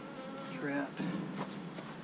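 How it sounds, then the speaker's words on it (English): Bees buzzing close around a feeder, a faint, wavering drone with several overlapping hums rising and fading as insects pass near. "I gotta shake all those bees out of there and out of the other feeder"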